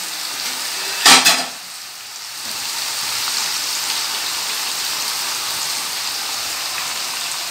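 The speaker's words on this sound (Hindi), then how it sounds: "इसी तरह से हमने ये सारे चिप्स फ्राई करने हैं कि ये क्रिस्पी हमने बनानी है।" Potato chips deep-frying in oil: a brief clatter, then a steady, fairly loud crackling sizzle that continues evenly to the end.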